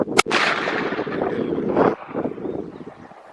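A Marlin 45-70 guide gun rifle fires a single sharp, loud shot at a long-range target, followed by a rolling boom and echo that fades over about three seconds.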